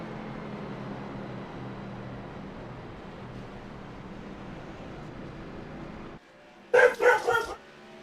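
A dog at the Pocono kart track gives a short burst of three or four excited yips and barks close by, after several seconds of steady low background noise.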